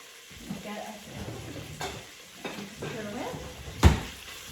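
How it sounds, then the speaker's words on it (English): Beef browns in a soup pot with crushed black pepper, a soft sizzle with occasional stirring clatter and one sharp utensil knock, while someone talks over it. "We're just gonna get that meat browning a little bit"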